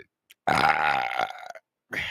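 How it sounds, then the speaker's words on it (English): A person burps loudly and close into a microphone, one long croaking belch lasting about a second, with a brief vocal sound before and another starting just after. "As I burp into a microphone."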